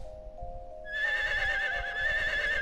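A horse in the farming video game Harvest Moon: One World gives a sustained, bright whinny that rises in and holds steady over a faint low rumble, clear and unaccompanied by talk.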